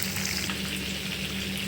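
Chicken pakodi fries in hot oil with a dense, steady sizzle heard up close and unbroken from start to finish.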